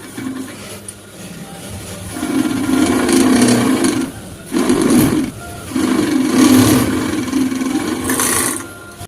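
Industrial sewing machine stitching PP geo bags in a factory, its motor roaring in long steady bursts with a sharp drop and restart around the midpoint, loud and close with no talk.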